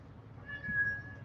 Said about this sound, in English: There's that kitty.